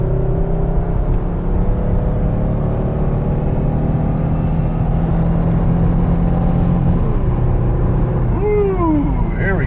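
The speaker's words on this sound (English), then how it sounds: "The car runs, like I said, it runs pretty strong." Car engine pulling steadily under acceleration, a loud, close, even drone with road rumble and a slowly rising whir, a few higher sweeping tones near the end.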